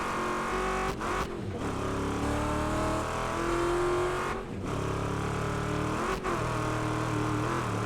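Car engine in Wreckfest 2 racing game revving hard and steadily for several seconds, with shifting tones and brief dips between gears, loud and close throughout.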